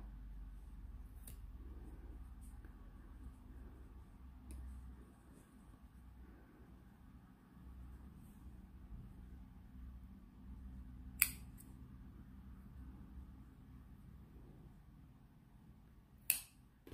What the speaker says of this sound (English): And then just cut these ends shorter so they won't show.